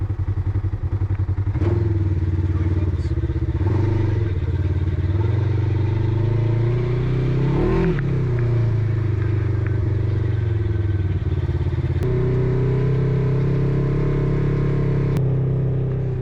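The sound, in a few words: off-road vehicles riding sand dunes at Silver Lake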